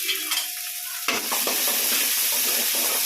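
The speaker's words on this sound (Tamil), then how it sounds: "2 கருவேப்பிலை சேர்த்து வெங்காயம் போட்டு" Onions and curry leaves sizzle loudly in hot oil while being stirred for a bitter gourd curry, with a scraping stir near the start and then continuous close frying.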